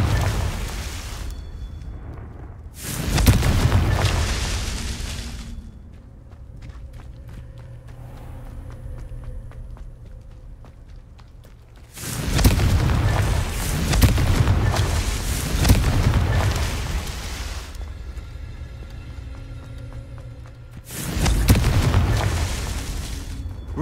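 The Confringo fire spell in Hogwarts Legacy explodes three times at roughly nine-second intervals, each a loud, deep booming blast with rumbling debris, separated by quieter ambient game sound and footsteps.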